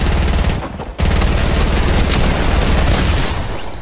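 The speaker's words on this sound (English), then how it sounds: "Heavy sniper." Heavy sniper rifle shot in Fortnite, a loud booming blast followed by a brief gap and then a dense, sustained barrage of gunfire and explosions.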